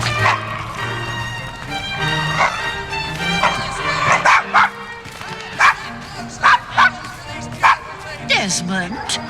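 A dog named Desmond in Assassin's Creed Syndicate barks and yips in repeated sharp bursts close by, with whimpering between them, while someone speaks over the sounds.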